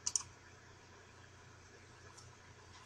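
A computer mouse clicks twice in quick succession at the start, crisp and close, then near silence follows.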